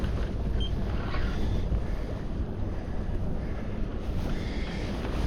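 Sailboat powering up on a sunny November day, with steady broadband wind rush and water noise buffeting the microphone throughout, no voices.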